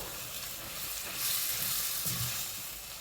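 Chicken and black bean stir fry sizzles steadily in a pan as it is stirred, a continuous frying hiss that swells slightly midway, with no talking.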